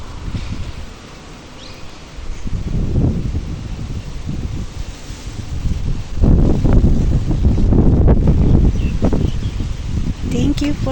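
Strong wind buffets the microphone in loud, rumbling gusts that swell and ease, with voices faintly under the roar, while walking outdoors near a coffee shop.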